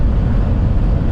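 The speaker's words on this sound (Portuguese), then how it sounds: "Escuta na cabine também o vento, né?" A strong gale batters a vehicle cab during heavy rain and wind in Goiás, heard as a loud, continuous broadband roar with no speech over it.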